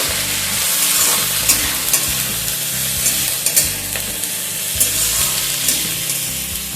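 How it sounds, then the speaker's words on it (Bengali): Cauliflower stems fry with potatoes in a pan while being stirred, making a loud, dense sizzle with frequent scraping and tapping of the spatula. "ফুলকপির ডাঁটাগুলো দিয়ে দিচ্ছি। এবার এগুলোকেও অল্প করে একটু ভেজে নেব।"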